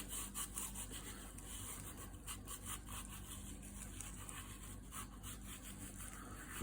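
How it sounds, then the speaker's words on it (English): Dried oregano leaves are crushed and rubbed between the hands, making a faint, steady, dry rustling scratch that continues throughout without speech. "So I'll just pick up a handful of it, just squeeze it in the hands"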